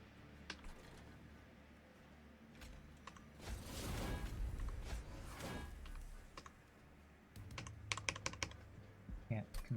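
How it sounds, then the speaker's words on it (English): Typing on a computer keyboard gives quick bursts of close, crisp key clicks. A voice talks over them partway through, and the clicking resumes in scattered runs afterward. "I need to go back to using my keyboard."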